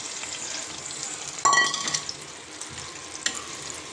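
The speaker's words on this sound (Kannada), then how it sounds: "ಈಗ ನಾನು ಒಗ್ಗರಣೆ ಹಾಕ್ತಿದ್ದೇನೆ." Tempering is poured into Mangalore-style bhutai fish pulimunchi, setting off a sudden sharp sizzling burst that fades into a softer crackle, with a brief second flare near the end and no voices.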